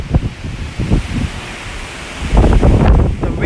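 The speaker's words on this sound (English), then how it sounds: "The wind is getting even more powerful." Strong storm wind blows in San Diego, roaring loudly in gusts with rustling bursts close to the microphone.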